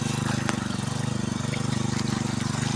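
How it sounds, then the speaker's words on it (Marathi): An electric motor pump drawing water into a dry farm field runs with a steady, throbbing drone, constant and fairly close, with no talk over it. "म्हणूनसाठी कोंडीमध्ये मोटरचं पाणी खेचून घेतात आहे"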